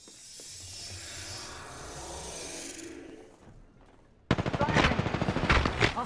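Automatic gunfire in the Apex Legends video game: after a softer, muffled stretch, a loud burst of rapid, evenly spaced shots bursts in and keeps hammering close up until the end.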